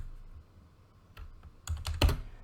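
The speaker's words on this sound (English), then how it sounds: "so I just type in Shane" A few quick keystrokes on a computer keyboard, sparse clicks building to a short cluster of louder taps, close and otherwise quiet.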